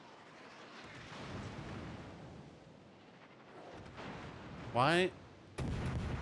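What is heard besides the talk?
gun shooting in a naval video game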